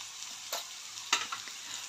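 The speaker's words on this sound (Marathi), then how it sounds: "सर्व मिक्स करून परतून घेते।" Chopped ridge gourd with turmeric sautéed in a pan, giving a quiet, even sizzle broken by a few sharper scrapes and clinks of a spatula mixing the vegetables, fairly soft and with no one talking.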